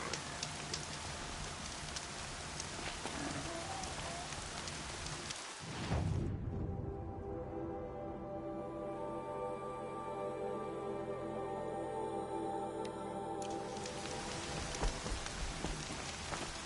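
Steady rain falls in a PS4 video game, a dense even hiss throughout with a brief dip and swell partway through, continuing without talk.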